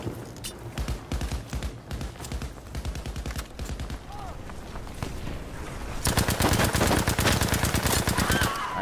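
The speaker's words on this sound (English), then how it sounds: "I'm getting shot from behind." Rapid automatic gunfire in a video game battle, steady bursts of shots close by, growing louder and denser toward the end, with a voice talking over it.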